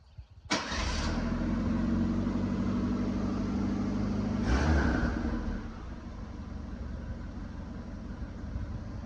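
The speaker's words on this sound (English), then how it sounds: "All I hear is motor instead of exhaust now" A Ford Fox Body Mustang engine with a new exhaust starts up close by and runs at a steady idle, a brief blip of revs midway, then settling to a lower, even rumble.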